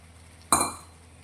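A single sharp clink of a spoon against a metal pan as boiled pigeon peas go into tomato gravy, a close bright strike that rings briefly and fades.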